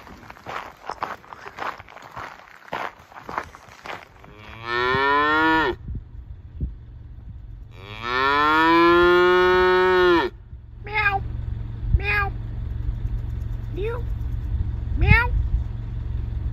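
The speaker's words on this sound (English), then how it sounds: "Usually we worry about bears at camp. Sometimes you gotta worry about cows." Cows mooing near a mountain camp, two long, loud, drawn-out moos close by, with footsteps and shorter calls around them and a person talking briefly.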